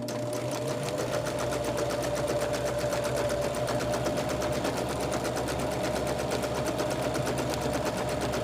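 A sewing machine runs steadily, stitching straight quilting seams on a patchwork pillowcase cover; a continuous, close, even whir with a fast regular needle rhythm throughout.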